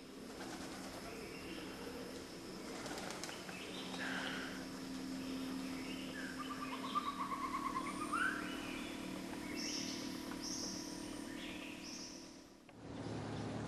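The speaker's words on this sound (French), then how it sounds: "Pigeons et chauves-souris se partagent les lieux préservés de toute civilisation." Pigeons in a cave in Thailand, their soft cooing and warbling calls faint and echoing over a low steady hum, with no talk.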